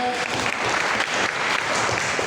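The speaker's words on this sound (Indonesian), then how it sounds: "Sekali lagi boleh tepuk tangan untuk Mas Alex." Steady applause from a group for Mas Alex at a training session, a brief unbroken burst of many hands clapping with no talk over it.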